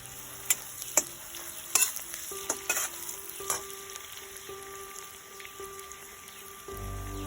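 Onions sautéing in a pan with salt for a Bengali bottle melon and shrimp dish, a soft steady sizzle broken by clinks and scrapes of stirring, close and moderately quiet, with no voices.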